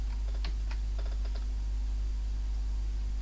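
Keys tapped on a PC keyboard to steer a powerboat-racing video game on a Thomson MO5/TO7-70 computer: a short burst of several quick, light clicks over a steady low hum, then quiet.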